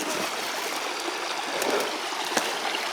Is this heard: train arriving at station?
no